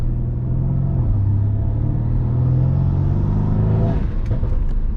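A Mercedes C63s AMG fitted with VRP intakes accelerates loudly from inside the cabin, its deep engine rumble rising steadily for about four seconds before easing off, with no talking.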